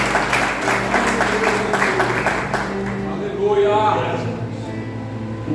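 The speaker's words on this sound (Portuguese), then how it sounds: "dá uma salva de palmas" Church congregation applauding during a Sunday service, clapping that fades out midway while a voice carries on over and after it.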